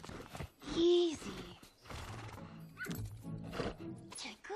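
A horse whinnies in a loud, close burst lasting about a second, then breathes and shifts nearby while people speak over the rest of the scene, with faint hoof sounds.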